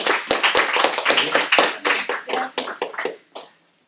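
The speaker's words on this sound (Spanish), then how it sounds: "damos un aplauso para ellos" Brief applause from a small church gathering: scattered, uneven hand claps from a few people, fairly close, tapering off and stopping after a few seconds.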